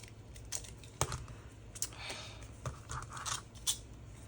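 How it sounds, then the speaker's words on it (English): Scissors being sharpened by snipping through aluminum foil, giving a series of close, crisp metallic snips and crinkles at an uneven pace. "Scissors, but I need to take them and put them on some aluminum foil."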